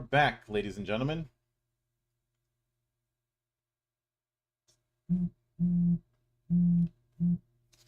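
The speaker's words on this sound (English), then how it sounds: "Sorry about that. That was my phone." Four short, evenly spaced phone signal beeps sound clearly after a brief burst of speech and a pause of near silence.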